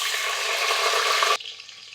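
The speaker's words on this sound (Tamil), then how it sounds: "இப்போ வெங்காயம் சேர்த்துட்டு நல்லா வதக்கி விட்டுக்கோங்க" Sliced onions sizzle and fry loudly in a hot pan for mint biryani, a steady dense crackle that cuts off abruptly to a quieter fading hiss near the end.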